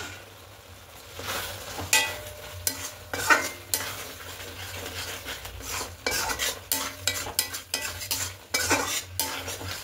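Matar paneer masala stirred in a pan after paneer goes in, a spoon scraping and clinking against the metal in uneven strokes over a soft, steady sizzle, close and alone with no voices.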